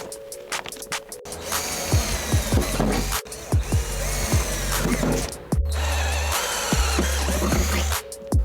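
Power drill boring a pilot hole with an 8.5 mm bit while fitting an Equip'Addict snorkel to a Nissan Patrol Y61 TD6, in several close, loud bursts separated by short pauses.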